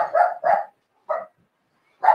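A dog barks in short, close, loud bursts: a quick double bark, then a single bark, then another after a pause, with silence between.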